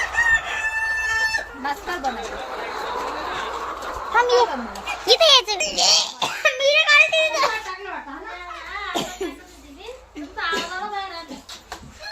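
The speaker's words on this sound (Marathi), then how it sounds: "कोंबड्यांचा खूपच आरडाओरडा चालू आहे" Chickens and roosters cluck and crow loudly inside a poultry shed, repeated crows rising over constant squawking and clucking, while people, including a child, talk nearby.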